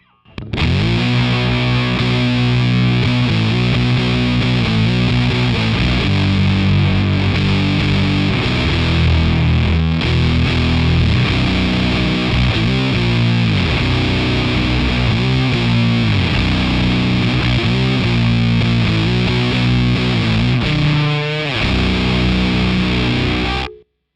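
Electric guitar played through a bass Big Muff-style fuzz plugin, Boss Hyperfuzz flavour, giving a thick, mid-scooped stoner-doom tone: loud, sustained distorted riffing with chugging chords and slides, alone for about 24 seconds.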